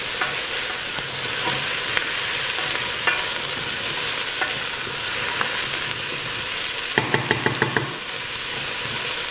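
Onions gently sauté in a pan at a cooking class, a steady soft sizzle with occasional spoon taps and a rapid burst of clattering stirring strikes near the end, close with no talk.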